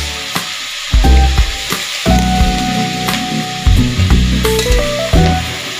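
Meat drops into a hot pan of oil for a pulutan dish and fries with a loud, continuous sizzle, punctuated by the clatter and scrape of stirring utensils.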